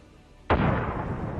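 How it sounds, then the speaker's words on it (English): On an abandoned Russian tank fitted with reactive armour and set ablaze after a grenade blast, a heated thermal decoy flare explodes with one sudden sharp bang, followed by a sustained roaring hiss that keeps burning loudly. "The thermal traps heat up and explode, creating this beautiful effect."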